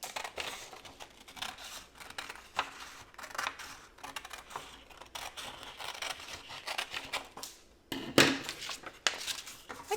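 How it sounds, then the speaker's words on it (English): Scissors snip through a sheet of paper in a steady run of crisp, close cuts, quiet and alone, with one sharper scrape near the end. "I'm gonna go ahead and cut."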